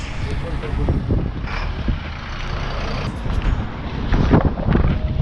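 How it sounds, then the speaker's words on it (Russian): Strong gusting wind roars and buffets the microphone in heavy, uneven bursts, with a low rumble of traffic in the background, in the city of Irkutsk. "О, ребята, жесткий ветер. Ветер прям лютый."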